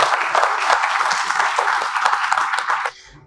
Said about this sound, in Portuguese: solicito uma salva de palmas